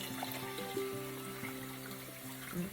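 Cold water poured slowly into a thickening sauce for vegan stuffed peppers, a faint, close trickle and dribble in a quiet kitchen.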